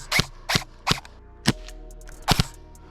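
Airsoft gun firing six sharp snapping shots in an outdoor skirmish, irregularly spaced with a couple in quick pairs, fairly close and loud with no talking.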